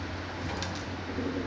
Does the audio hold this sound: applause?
no